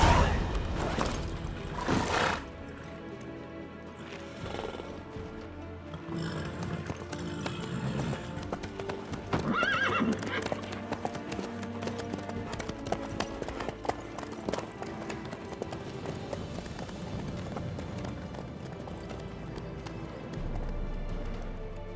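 Horse hooves clip-clop steadily in The Witcher 3: Wild Hunt, a continuous galloping rhythm with occasional whinnies, layered under game ambience and characters talking.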